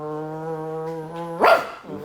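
A close, loud, sustained whining dog vocalization holds steady for over a second, then breaks into a short rough bark-like burst before fading, with no talk over it.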